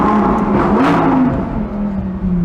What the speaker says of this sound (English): let's just hear how this car sounds through this tunnel